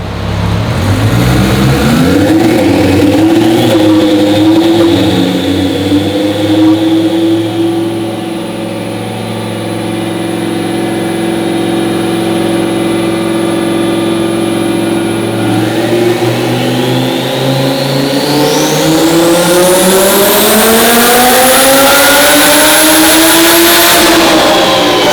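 A twin-turbo Audi R8 revs hard on a dyno run, the engine note climbing steadily in pitch with a loud, sustained roar, briefly easing midway before rising again toward a high-pitched peak; no talking.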